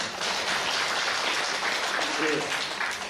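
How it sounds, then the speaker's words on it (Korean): A congregation claps at a Sunday morning worship service during a sermon at a church in Haeundae. The applause is fairly soft and steady, with some speech faintly mixed in. "박수 한번 쳐주세요."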